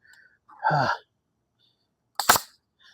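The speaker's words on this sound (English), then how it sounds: "Shot that staple through." A staple gun fires a staple through a grass screen built for chickens, giving one sharp, loud snap after a brief muffled sound earlier and otherwise quiet surroundings.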